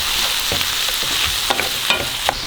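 Sugar snap peas, peppers and mushrooms hiss in a hot pan for a Thai green curry, a steady sizzle punctuated by a few clacks and scrapes of stirring.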